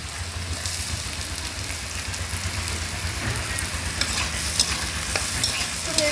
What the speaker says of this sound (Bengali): এই আলুগুলো এবার তেলের মধ্যে ভেজে নেব।